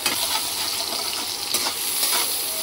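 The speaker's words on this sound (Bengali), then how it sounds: "ফুলকপিটাকে বেশি করে ভালো করে ভেজে নিই।" Cauliflower and other vegetables sizzle steadily in a pan while being stirred, a continuous close crackling hiss with scraping motions and no talk.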